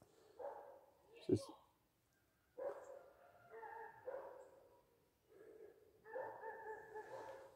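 A pack of dogs barks in bursts around an old immigrant cemetery, with several yapping and whining calls spread across the stretch, one sharp loud bark standing out near the start, moderately close with gaps of quiet between.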